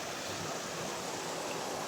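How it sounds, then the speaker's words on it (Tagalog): Steady broadband rush of a flowing river outdoors, continuous and even throughout. "So ito yung ilog."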